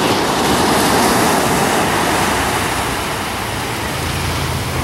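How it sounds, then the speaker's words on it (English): Ocean surf at Santa Monica Bay on an early afternoon: loud, continuous rushing of breaking waves with wind buffeting the microphone, close and unbroken. "This is Santa Monica Bay."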